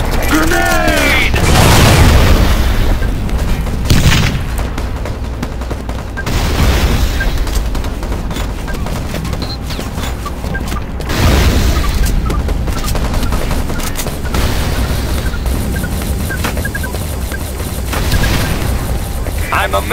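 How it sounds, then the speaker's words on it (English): Repeated grenade blasts and bursts of rifle and machine-gun fire fill a battlefield in Enemy Territory Quake Wars, loud booms landing every few seconds over continuous gunfire, with voices mixed in. "Grenade!"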